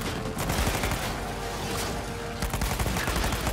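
Heavy automatic gunfire in Uncharted 4: A Thief's End, a dense continuous fusillade of rapid shots with bursts overlapping, loud and close throughout.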